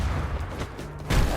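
In the video game Hero Battlegrounds, an explosion attack sets off a quick burst of booming blasts, loud and close, with a few rapid impacts over barely a second and no talking.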